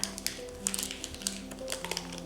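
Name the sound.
tapping the bottom of the baked castella cake pan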